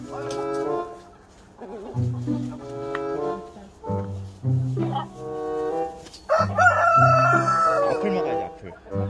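A large Brahma rooster, a very big breed, crows close by, a drawn-out call among scattered clucks and farmyard noises.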